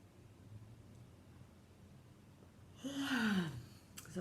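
A person gives one big yawn, a rising and falling breathy vocal stretch of about a second, close and quiet after soft background hiss.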